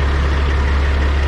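A Peterbilt truck's diesel engine idles close by, a steady heavy low rumble with an even throb and no change in pitch or loudness.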